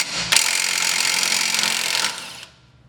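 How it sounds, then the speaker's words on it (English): A big impact wrench with a 1 1/4 inch socket spins off the axle nut on a Nissan Sentra: one loud, close burst of about two seconds that cuts off and fades. "we're gonna remove that big axle nut with a big impact and socket"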